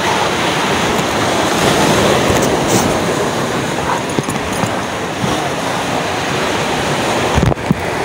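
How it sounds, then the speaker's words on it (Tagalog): Strong ocean waves roll and crash continuously against the shore at a fishing spot in Ternate, loud and near, with wind buffeting the microphone throughout. "Yun o, lakas na naman ng alon o."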